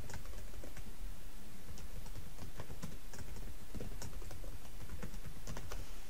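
A password being typed on a computer keyboard, a dense run of quick, close key clicks with irregular rhythm lasting several seconds, with no voices.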